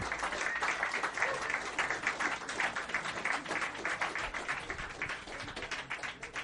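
An audience applauds after a bouzouki and vocal performance, a dense patter of clapping that stays steady and fairly close throughout, with no clear talk over it.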